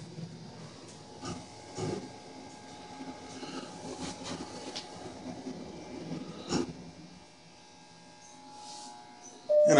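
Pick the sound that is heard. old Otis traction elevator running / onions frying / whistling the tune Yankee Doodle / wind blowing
old Otis traction elevator running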